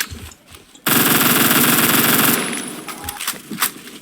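In the video game Phantom Forces, an M231 rifle fires a fast, loud burst of automatic gunfire lasting about a second and a half, followed by a trailing echo and scattered clicks and thumps.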